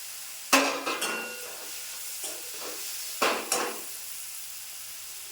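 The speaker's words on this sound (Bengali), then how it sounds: "মশলাটা 5 মিনিট কষে নেব।" Tomato and spices sizzling in oil in a pan for a vegetarian potato and pointed gourd curry, with a stirring burst near the start and another midway, then a low steady fry between them.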